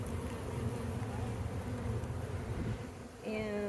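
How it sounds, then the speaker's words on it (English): A dense, steady hum of many worker honey bees buzzing nearby on hive frames fills the space, with a brief louder tonal drone rising near the end. "like these worker bees"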